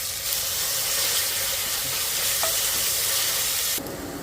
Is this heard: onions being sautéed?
yes